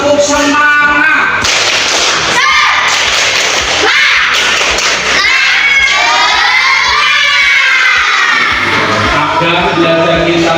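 A classroom of Indonesian schoolchildren performs a rhythmic spirit clap, loud bursts of group clapping and thumping with children's shouts and cheers throughout, no quiet gaps.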